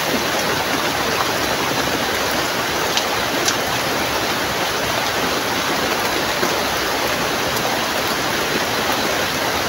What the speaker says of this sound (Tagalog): grabe ulan